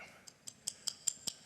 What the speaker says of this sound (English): A traditional pocket watch sounds like this.